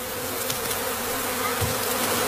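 A honeybee swarm buzzes steadily at the hive, a dense, continuous drone of many wings close by with no pauses and no voices.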